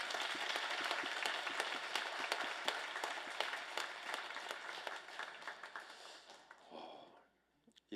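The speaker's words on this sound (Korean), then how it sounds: "우리 서로에게 큰 박수로 격려하겠습니다." A church congregation at a Sunday afternoon worship service breaks into loud, dense applause that holds steady for several seconds, then tapers off and fades to near silence.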